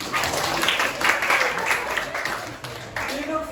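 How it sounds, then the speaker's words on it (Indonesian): A classroom of students claps for a classmate who answered correctly, brief scattered applause under a teacher talking over it. "tepuk tangan untuk temannya"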